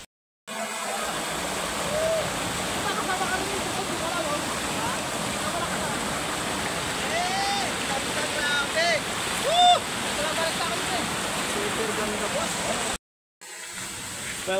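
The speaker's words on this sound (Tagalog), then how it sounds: "Welcome to Secret Falls. This is the Secret Falls." Secret Falls waterfall roaring steadily and loudly nearby, a dense continuous wash of falling water with a brief dropout near the end.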